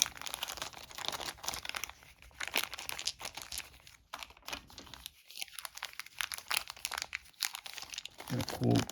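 Plastic baggie holding game dice for the Gargoyles: Awakening board game crinkles and rustles in bursts as it is handled, with dice clicking, close and fairly loud throughout.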